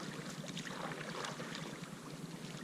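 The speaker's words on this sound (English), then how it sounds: "I'll show you paddling away so you can kind of see that." Paddle strokes from a long boat moving forward through water, a steady wash of splashing and rushing water with wind noise, fairly close and continuous with no talking.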